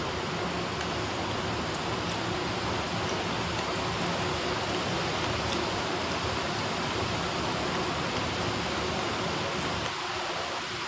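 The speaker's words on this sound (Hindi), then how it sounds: "ज़्यादा मीठी नहीं हुई है क्योंकि बारिश हो रही है ना" Unexpected rain falls outdoors as a continuous, even hiss that holds steady at a moderate level from start to finish.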